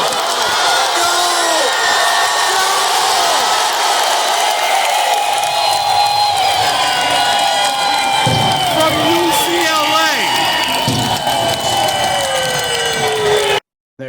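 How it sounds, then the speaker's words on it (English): Stadium crowd at a Cleveland Browns football game roaring after a touchdown, a loud, continuous wall of cheering and whoops lasting about thirteen seconds before cutting off abruptly. "And the crowd went so insane."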